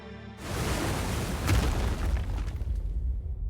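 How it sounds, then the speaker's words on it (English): A rumbling explosion out at sea from the Godzilla Minus One trailer: a sudden onset swelling into a loud, sustained low roar with a sharper burst midway, then a slowly fading rumble. "They're remaking the whole explosion out at sea thing they did in 54."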